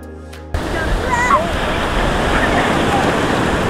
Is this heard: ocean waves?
yes